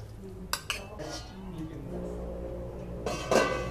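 Metal utensil scraping and clinking against a cooking pot as softened pork ribs for a red curry are scooped out, a few sharp clanks followed by steady scraping, with a second clatter near the end.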